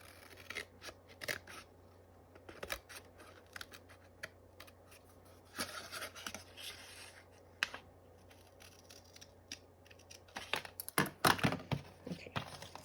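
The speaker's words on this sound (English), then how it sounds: "Now I'll just cut the other one." Scissors snip a notch into a handmade memo pad, a few quiet, close cuts separated by pauses and light paper handling in a hushed room.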